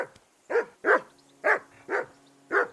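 Six loud, close barks from a dog in the medieval game Kingdom Come: Deliverance II, spaced roughly half a second apart, with a faint low hum underneath and no voices.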